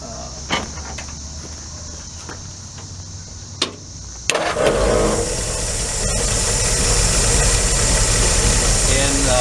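A 1936 Ford Model 68 pickup engine, fitted with a 12-volt battery, cranks briefly and catches, then settles into a steady, loud, close running drone that fills the rest of the clip.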